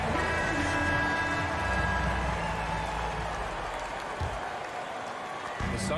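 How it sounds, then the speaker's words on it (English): Crowd applause fills a basketball video game arena during a fourth-quarter Suns versus Clippers break, a steady broad wash of clapping and cheering that stays loud throughout, with a commentator's voice talking over it. "Fans, please give a big round of applause for your Suns Youth Dance"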